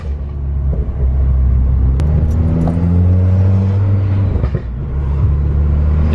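Loud Volkswagen Golf R Mk6 that is burning oil drives past, its engine droning and revving steadily with a deep rumble that holds throughout, no talking.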